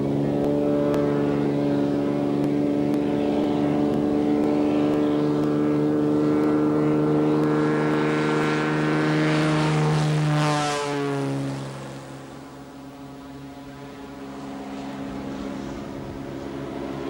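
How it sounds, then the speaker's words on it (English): Propeller airplane flying out toward an agricultural airstrip, a loud droning engine with steady harmonic tones that swell, shift in pitch, then drop to a quieter hum near the end; no talking. "we should be able to get in the plane, fly out, and actually find our way to this airstrip"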